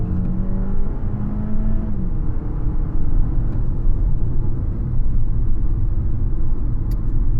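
A 2021 Toyota RAV4 LE in sport mode accelerates as a steady, loud cabin rumble and engine drone, its tone climbing then dropping with shifts, with no voices.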